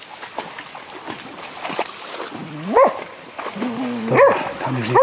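Hunting dogs bark and yip during a deer chase, with several sharp calls standing out near the end over steady outdoor background noise.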